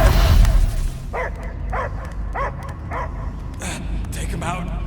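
Dog barking in the Guardians of the Galaxy video game, a run of about five short yelping barks at an even pace over a steady ambient game background, with a voice speaking around them.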